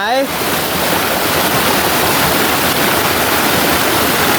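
Khao Phlu waterfall at Sap Sa Kaeo pours in a loud, constant, close roar of falling water that does not let up.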